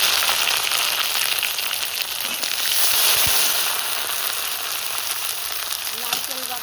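Ginger garlic paste, cumin and spices frying in foamy oil, a dense, loud crackling sizzle that holds steady throughout, with a faint voice near the end.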